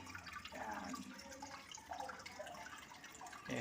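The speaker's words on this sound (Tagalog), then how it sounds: "Lagyan tayo ng tubig." Water pours steadily into a fish pond, a continuous close rushing and splashing with faint gurgles and no one talking.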